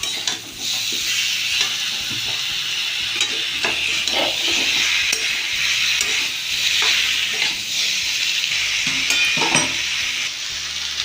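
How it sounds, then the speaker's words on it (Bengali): Mixed vegetables, including eggplant and long beans, sizzle steadily in hot oil while being stirred, with scrapes and clinks of a spatula against the pan throughout. "আমি ভালো করে নেড়ে নেব।"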